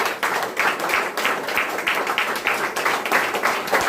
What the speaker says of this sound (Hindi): एक बार जोरदार तालियां सर